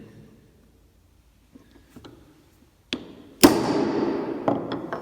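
A hammer strikes a center punch to mark a metal part clamped on a vise anvil: a few light taps, then two sharp loud metallic blows close by, followed by a ringing clatter and further knocks.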